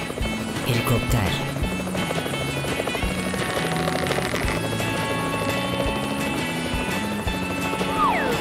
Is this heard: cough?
no